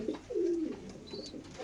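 Racing pigeons at a market coo softly nearby in a short low throaty burble, with faint background noise around it.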